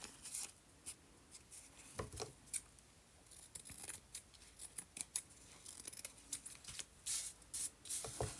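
Paper edge being trimmed with scissors while making journal decorations: a run of quiet, crisp snips and rustles, close and soft, with no talking.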